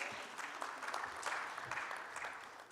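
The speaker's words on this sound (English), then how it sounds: "Round of applause." Applause from a conference audience at the inaugural session of a corporate bond market conclave, a steady dense clapping that carries on through the whole stretch at a moderate level.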